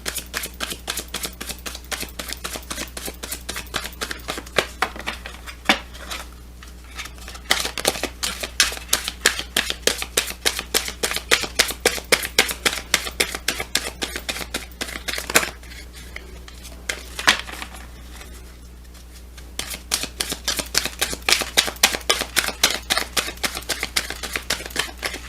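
Tarot and empowerment cards being shuffled by hand, a steady run of quick crisp riffles and snaps that pause briefly twice before resuming, close and fairly loud with no talking.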